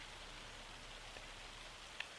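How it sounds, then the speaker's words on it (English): Steady rain falling in the video game Farming Simulator 25, a soft, even hiss of drops with no pauses, faint and constant throughout. "we're just going to kind of sit back and wait for the rain to finish"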